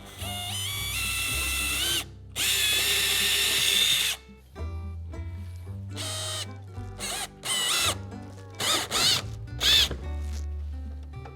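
Power drill with a 3/8 inch bit boring holes in a kayak whirs in a long burst, then in several short bursts with pauses between, close and fairly loud.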